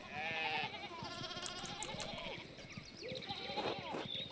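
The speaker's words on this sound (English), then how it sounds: "One of the fence rails fell out and the sheep started hopping it." Sheep bleat repeatedly in a farmyard scene of the video game Pentiment, with several wavering calls overlapping at close range and a voice briefly speaking among them.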